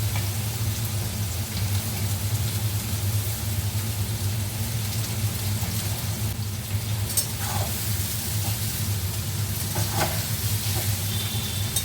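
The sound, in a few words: potatoes frying in a pan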